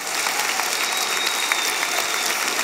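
A church congregation claps loudly and steadily in praise, a continuous bright roar of many hands without pause, no speech standing out.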